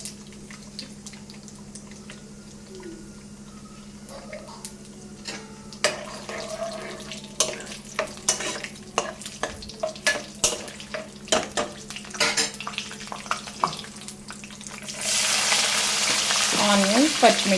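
Onions frying in a pan with coriander and cumin powder for a mushroom and cashew curry, a steady sizzle with stirring clatter throughout, swelling into a loud, hissing fry near the end.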